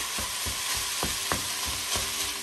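Food sizzles steadily in a pan while a utensil stirs it, several distinct scraping strokes spaced about every half second over a constant close frying hiss, with no talking.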